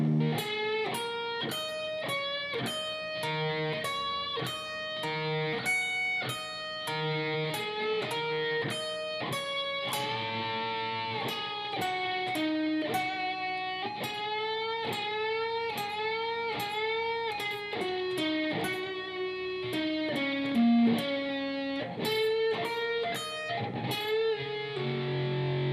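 Slow electric guitar rendition of parts 4 to 7 of a song, a continuous string of single notes and double stops at an even, deliberate pace, close and steady, with no voice.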